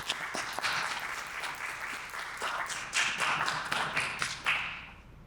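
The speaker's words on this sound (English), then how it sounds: "Clap him all the way up to the mic real quick." An audience at a poetry open mic claps for a poet walking up to the stage. The applause is fairly faint and thin, a loose scatter of individual claps that stays irregular throughout and then trails off.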